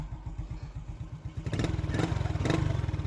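A Honda XRM 125 motorcycle engine after a top overhaul fires up and runs with a steady, rapid mechanical putter that grows louder partway through, close by and with no voices.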